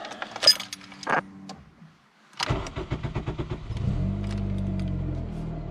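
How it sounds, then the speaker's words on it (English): Keys jangle briefly, then an engine cranks with rapid rhythmic turning before catching and settling into a steady low idle, close up. "now let's start the car up."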